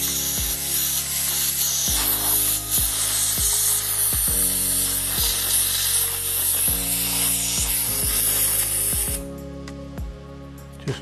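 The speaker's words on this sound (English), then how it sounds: "I shall now just give it a little blowout with the air line" A compressed air line blasts through a Badger 200 airbrush in a loud continuous hiss, pulsing in repeated bursts with a low rhythmic thumping underneath before the air cuts off near the end.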